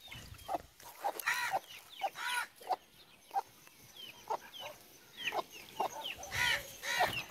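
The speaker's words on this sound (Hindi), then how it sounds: "ये वही मुर्गी है" A hen clucks repeatedly in short, irregular bursts close by, with quiet outdoor ambience between the calls.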